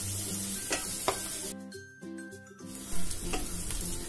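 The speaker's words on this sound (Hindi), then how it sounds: "अब मैं उसके अंदर ये लहसुन डाल रही हूँ और इसको अच्छे से मिक्स करूंगी" Garlic goes into golden frying onions in a pan and gets stirred: a steady, close sizzle with a brief dip and scraping stir sounds midway before the hiss swells again, with no talking.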